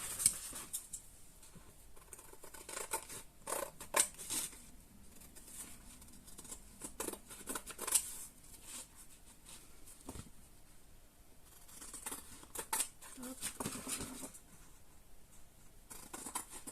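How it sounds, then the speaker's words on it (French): Scissors cut paper for a handmade clock and small craft album, giving quiet, intermittent snips and rustles spaced irregularly at close range. "Là, on va couper."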